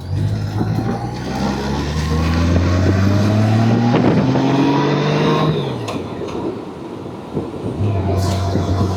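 A car driving in the Minnesota countryside on a road with a stretch of gravel, engine drone rising and falling through gear changes with road rumble and wind noise close by, a brief dip midway before the engine picks up again.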